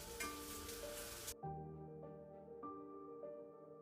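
Peppers fry in olive oil in a home kitchen while Tekirdağ köfte is prepared, a loud sizzle that cuts off sharply, leaving soft clinks and quieter crackling.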